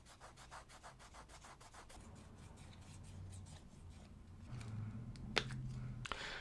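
A finger rubs lightly over the face of a playing card while making a gaff card, giving a soft, steady rasping scrape close up, in short repeated strokes at first and then a longer continuous rub, with no talk.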